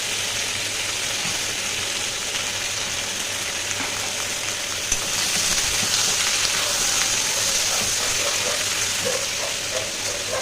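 Chopped papaya and eggplant frying with onion and panch phoron five-spice in a home kitchen, producing a steady close sizzle and hiss that runs unbroken throughout, with a faint low hum underneath.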